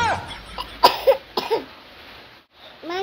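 Someone coughs several times in short, sharp bursts close by, with pauses between them and a brief voice near the end.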